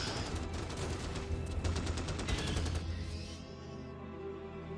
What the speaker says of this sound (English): Opening fire. Shoot the spitters.